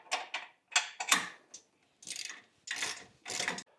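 Ratchet wrench tightening tow and recovery loop bolts on a 2021 Jeep Wrangler, heard as several short bursts of quick clicking, close and clear, with brief pauses between strokes.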